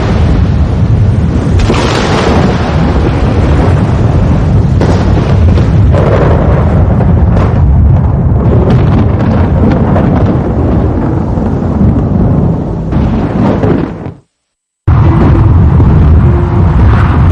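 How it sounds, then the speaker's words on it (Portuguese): A thunderclap from a lightning strike booms and rolls, a loud deep rumble that swells and fades in waves, then breaks off in a short gap of silence before the rumbling resumes. "Um raio foi criado."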